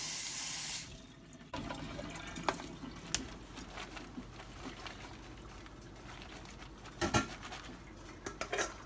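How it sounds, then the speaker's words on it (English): Running tap water splashing into a kitchen sink as cabbage is washed, a soft continuous flow punctuated by light clinks and knocks of handling near the basin. "I'm going to wash this off while it cooks for about 10 minutes"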